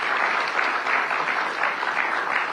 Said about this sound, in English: Please give them a big, big round of applause.